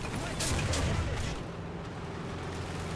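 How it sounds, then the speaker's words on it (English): Aircraft strafing fire in the War Thunder tank battle game, a quick cluster of heavy thumping impacts in the first second and a half, then fading to a low rumble, fairly faint overall. "I get strafed again."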